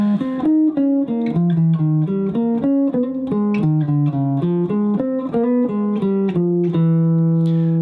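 Clean electric guitar plays flowing single-note arpeggios over a steady jazz progression, each phrase rising and falling, ending on a sustained low note.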